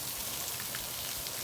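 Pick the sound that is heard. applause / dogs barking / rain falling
rain falling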